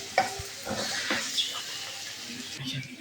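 Onion and ginger paste fry in a pan with a soft, uneven sizzle and light stirring noises throughout, some of it watery in tone.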